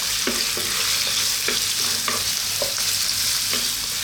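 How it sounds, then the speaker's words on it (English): Celery and a little bacon sizzle steadily in a pan over medium heat, with a utensil scraping and stirring through them in several distinct strokes; the frying hiss stays loud and continuous throughout, and no one speaks. "Let's throw this around in the pan."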